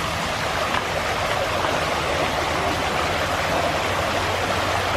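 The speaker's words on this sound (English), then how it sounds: "there's like a little creek we can look at while we wait for the train to come by" Small salmon creek near Skagway flowing steadily, a constant dense rushing wash of water with no breaks, fairly loud and close, heard on its own.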